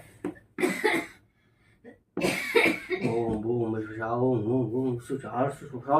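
A few short coughs near the start, followed by someone speaking at length in a close, clear voice.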